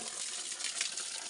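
Water pours steadily from a spring spout (dhara) on a village mountainside, a continuous close splashing rush with no pauses.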